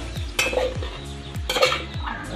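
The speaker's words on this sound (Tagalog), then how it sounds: "lalagyan na natin yung noodles ito na yung noodles" Pancit canton noodles going into a hot pan get stirred with a utensil, producing repeated scraping clatter of metal on the pan every half second over a faint sizzle, close up.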